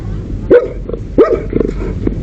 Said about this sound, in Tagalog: Kuya, laki ng aso.